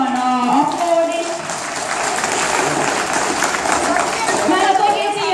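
A crowd at a school celebration applauds loudly, dense clapping and cheering close by, with voices talking and calling out over it.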